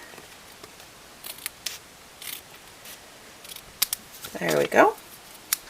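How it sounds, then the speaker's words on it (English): Scissors trimming the edges of a handmade card, several short crisp snips close by, with a brief spoken remark near the end. "I will just trim that down to match my card."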